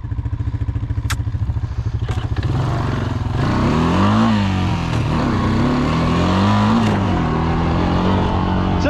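A Honda Rancher 350 ATV engine idles with a rapid chugging pulse, then revs up and down in waves as the rider pulls away through mud, loud and close with some clattering.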